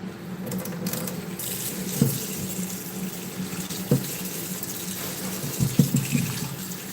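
Tap water runs steadily into a sink to defrost food, a close, continuous gushing fill with a few louder splashes and knocks scattered through it.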